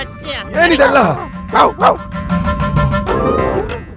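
A man in a Kannada comedy serial imitates a dog, letting out a few loud, strained barking yelps one after another, with other voices speaking around him.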